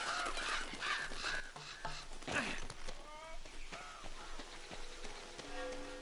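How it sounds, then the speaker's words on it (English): Crows cawing in a jungle setting in the video game Uncharted: Drake's Fortune, several harsh repeated calls at mid distance over a faint steady hiss of rain or ambience. "Bird sounds are nice."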